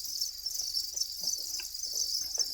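Farmed crickets in Iceland chirp in a dense, continuous high-pitched trill, steady and close, with faint scattered rustling underneath.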